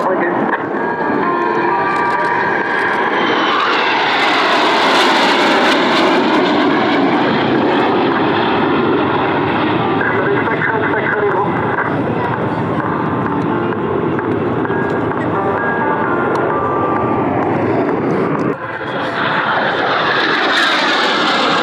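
At Cosford Airshow 2023, a solo display aircraft roars past loud and close, its engine drone sustained for the whole pass. An announcer talks over it throughout.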